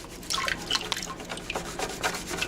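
Water splashing and dripping in a gold pan as dirt is swirled and more water is added, a series of close, irregular drips and small splashes.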